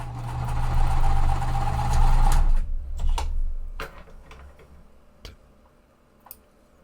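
A sewing machine stitches quilt blocks placed right sides together, its steady motor whir running for about two and a half seconds before stopping, then followed by scattered clicks and light handling noises.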